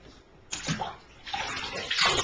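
Water poured over a small child's head in a bathtub during bath time, splashing in two bursts, close and moderately loud, with a child's babbling faintly mixed in.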